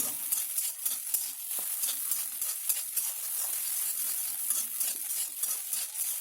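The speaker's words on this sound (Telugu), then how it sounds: "పసుపు వేసి ఒక 5 సెకండ్లు కలిపేసి ఇప్పుడు కారం పొడి వేద్దామండి." Egg bhurji with turmeric being stirred in a frying pan: a constant loud sizzle of frying with repeated scraping strokes of a spoon against the pan, no voices.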